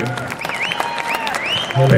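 Audience clapping at a Punjabi fair in Surrey, BC, 2014: a dense, steady patter of applause with voices and a melodic tone over it, swelling louder near the end.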